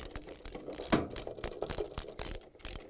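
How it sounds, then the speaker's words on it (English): A 10 mm socket wrench ratchets in quick bursts of clicks while bolts are tightened clockwise on a Samsung washer spider arm, close up with short pauses between strokes and no talking. "Install the rest of the bolts and tighten them with a 10 millimeter socket wrench, turning it clockwise."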